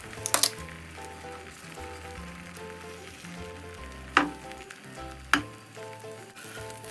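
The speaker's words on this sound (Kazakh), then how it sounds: "оны сковородкаға май құйып, қыздырып, яичный смесімізді екіге бөліп қуырамыз." Egg mixture fries in hot oil in a frying pan with a steady, close sizzle throughout, punctuated by a few sharper spatters and crackles near the start and midway.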